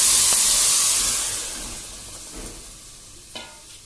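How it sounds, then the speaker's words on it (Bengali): Coconut milk poured into a pot of fried rice for pulao: a loud burst of hissing sizzle that gradually dies down to a quieter simmer, with a small clink near the end. "আমি নারকেলের দুধটা এখন এর ভিতরে দিয়ে দেবো।"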